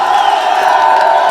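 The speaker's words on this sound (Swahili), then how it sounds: "Jipigieni makofi bwana." An outdoor crowd of construction workers cheers and whoops loudly at close range, a dense sustained roar of voices with no clear break.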